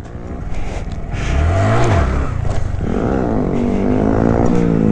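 Honda Grom motorcycle engine revving up hard, pitch climbing and wavering over several seconds, close and loud, with no one talking.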